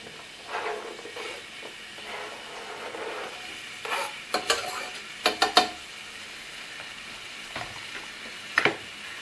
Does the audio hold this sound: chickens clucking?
no